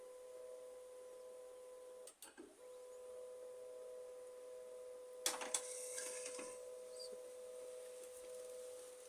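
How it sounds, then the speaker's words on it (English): An HP LaserJet 1018/1020/1022 laser printer running a test page gives a steady mechanical whine, broken by two bursts of clattering paper feed and rollers, heard close and fairly quiet. "and testing our printer"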